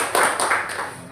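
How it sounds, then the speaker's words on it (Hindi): Scattered claps from an audience at a training event welcoming new leaders, a brief burst of a few hands with a faint ringing tone, close and moderately loud. "मैं चाहता हूं कि जितने भी हमारे नए लीडर्स हैं उनके लिए एक बार जोरदार तालियां होनी चाहिए"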